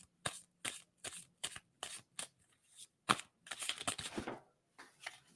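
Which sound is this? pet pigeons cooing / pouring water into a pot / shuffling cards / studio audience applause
shuffling cards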